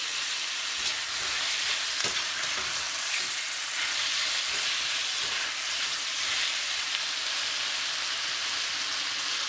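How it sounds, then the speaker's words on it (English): Chopped tomatoes sauté in a pan for chana masala, an Indian chickpea curry, giving a steady, close sizzling hiss that holds level throughout with faint stirring underneath. "add the chopped tomatoes. Saute well."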